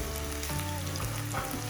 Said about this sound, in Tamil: இப்போ ஊற வச்சிருக்கிற சிக்கன் எடுத்து இந்த சட்டியில போடுறேன்.